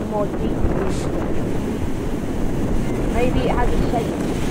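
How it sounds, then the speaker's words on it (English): Outdoor wind buffeting the microphone over rushing water and waves, a steady, fairly loud wash of noise with a few faint bird calls. "Notice the sounds around you, the water,"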